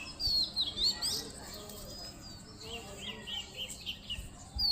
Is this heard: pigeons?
yes